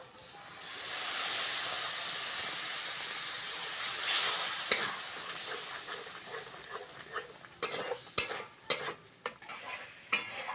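Bengali spice masala of chilli powder and water fries in a pan with a loud hiss that fades. A run of sharp spoon scrapes and knocks against the pan follows as it is stirred.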